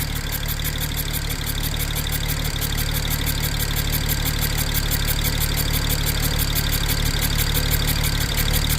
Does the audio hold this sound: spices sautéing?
no